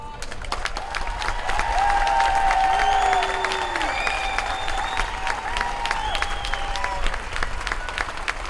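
A crowd at a Child Protection League rally in 2019 gives steady, full applause that holds for several seconds, with scattered whoops and cheers rising above the clapping.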